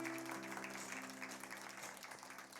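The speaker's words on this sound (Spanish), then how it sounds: "¿Podremos darle un aplauso al Señor?" A church congregation at a Sunday Advent service applauds in a soft, continuous wash of clapping that sounds distant and faint.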